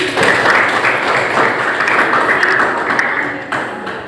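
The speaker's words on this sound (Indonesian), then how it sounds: "Tepuk tangan buat Ica ya." A classroom at an Islamic junior high school (MTs Persis Cisomang) breaks into dense, steady applause from students, filling about four seconds at close range before tapering slightly.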